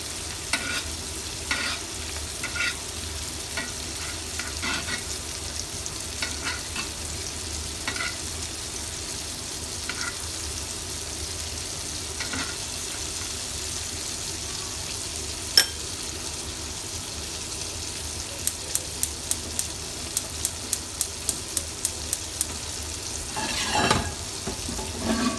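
Sous vide steaks being basted in a pan give off a low, steady sizzle and frying hiss throughout, with occasional stirring clinks and a quick run of light taps near the end.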